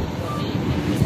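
Steady wind buffeting the microphone in an outdoor park in Hong Kong, a loud, low, broadband rush that continues for about a second.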